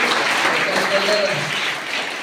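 Audience applause at a welcome ceremony honouring a Zee Kannada television actress and her team, a steady wash of clapping throughout that eases slightly toward the end.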